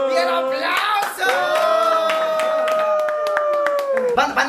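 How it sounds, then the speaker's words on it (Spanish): A few people clap their hands quickly at home after a playful trick with water, sharp claps under loud, drawn-out excited shouting and voices that run through almost the whole moment. "¡Bien, aplauso!"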